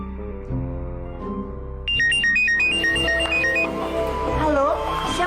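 A telephone rings with a repeating electronic ringtone melody, loud and continuous throughout, stepping up into a higher, busier tune partway through over a background music bed.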